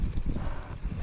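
Bicycle rattling as it rolls over a bumpy trail rutted by tractor tread marks, with steady clattering thumps and wind noise throughout, close to the rider.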